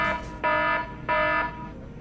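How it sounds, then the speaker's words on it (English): A control-system alarm for a cooling failure sounds in repeated loud electronic buzzing blasts, each about a third of a second long with short gaps between them, alone and with no voices. "we are going to start seeing alarms going off pretty quickly in the system"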